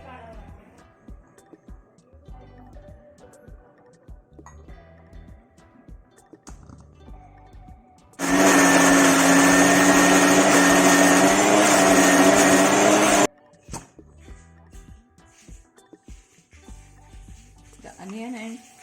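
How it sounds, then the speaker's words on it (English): A mixer grinder runs loudly for about five seconds, grinding fried onions and coconut into a paste for a Maharashtrian village-style chicken curry, with quieter kitchen clatter and handling before and after. "I'll add the fried onions to a fine paste, okay, to the grinder to make a fine paste."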